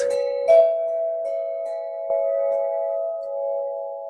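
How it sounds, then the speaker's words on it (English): Bells are struck twice, each ring leaving clear, sustained metallic tones that hum and slowly fade in a quiet space. "And there are conical bells."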